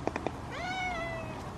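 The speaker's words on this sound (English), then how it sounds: "I can hear someone meowing" A cat meows once from close by, a clear, drawn-out rising and falling cry that follows a few soft taps, heard alone without talk.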